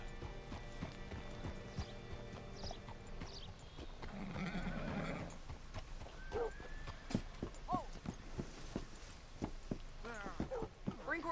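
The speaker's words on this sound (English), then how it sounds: "Hitch your horse up here." A horse whinnies loudly in the video game Red Dead Redemption II, followed by hooves clopping and stamping nearby, with a rumbling ambient backdrop.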